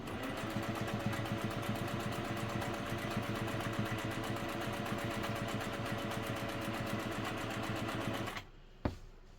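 A Singer 401A sewing machine runs a straight stitch in a fast, steady, close mechanical whir and clatter for about eight seconds, then slows to a stop with a final clunk.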